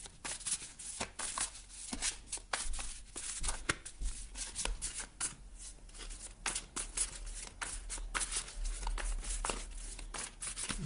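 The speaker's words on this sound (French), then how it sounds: "Je mélange votre jeu" A deck of tarot cards being shuffled by hand, a steady run of quick riffling flutters and soft slaps repeating close up for several seconds, with no voices.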